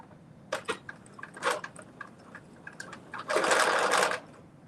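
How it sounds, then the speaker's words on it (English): A home sewing machine runs a short back stitch while sewing a McCall's 8037 pattern, giving several brief bursts of whirring followed by one longer steady run near the end, close and clear with no talk. "I'm just going to do a little bit of a back stitch."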